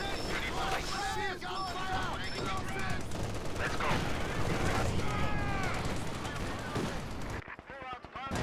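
An MG42 machine gun fires in long rattling bursts amid a chaotic Company of Heroes 2 battle, with other gunfire and explosions close by, heavy and continuous, with people talking over it.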